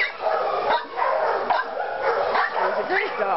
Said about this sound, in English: you're going to bark at him now?